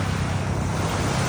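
Sea waves rushing along the shore, a continuous loud wash of surf mixed with strong wind buffeting the microphone, no voices.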